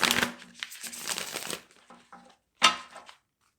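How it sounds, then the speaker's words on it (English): A deck of tarot cards is shuffled by hand during a reading, a quick riffle of crisp card flutters followed by a few shorter shuffles and one more burst, close and alone. "One more shuffle."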